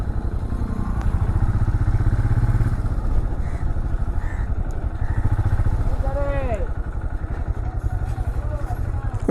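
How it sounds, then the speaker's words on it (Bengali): A motorcycle rolls down toward a parking area, its engine thudding in a close, steady low pulse throughout, with a brief voice speaking partway through. "বাইক নিয়ে আমরা একদম নিচে চলে গেলাম।"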